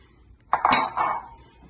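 A spoon clanks and scrapes against a metal pot while flour is stirred into boiling choux pastry dough off the heat. A short cluster of close, sharp clinks breaks a quiet background.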